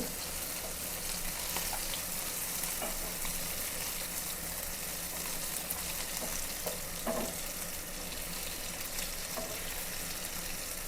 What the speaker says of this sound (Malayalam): പൂളാനെ ഞാൻ രണ്ട് വശമൊക്കെ മറിച്ചിട്ട് ഇട്ടു